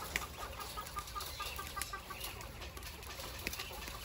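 Quails in a cage make soft, scattered clucking calls with occasional wing flutters, fairly near and continuous, with no talking.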